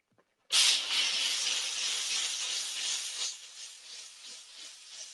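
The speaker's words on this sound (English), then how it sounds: "I'm just going to squirt it with the steam and then rub the brush around some." Steam cleaner spraying onto a microfiber couch: a sudden loud, close hiss that begins abruptly and then holds steady before easing slightly toward the end.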